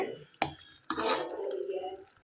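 A spoon scrapes and clinks around a pan of egg curry in a few separate strokes, close and fairly quiet, with a brief metallic knock near the start.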